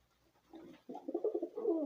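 Racing pigeons coo softly up close, a few rolling, throaty calls building in strength toward the end.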